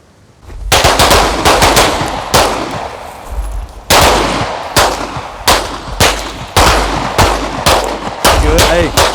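Pistol shots from a whole magazine at a tactical pistol training course in Dover, Tennessee: loud, sharp reports at an uneven, unhurried pace over about nine seconds, some shots echoing or ringing, with other gunfire nearby.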